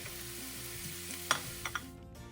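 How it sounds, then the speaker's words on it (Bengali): Carrots sizzle in hot oil in a pan with cashews and raisins added for fried rice, a steady close frying hiss with a couple of light utensil knocks near the end. "গাজরটা মোটামুটি ভাজা হয়ে গেছে এবার একটু কাজু আর কিশমিশ দিয়ে দিলাম"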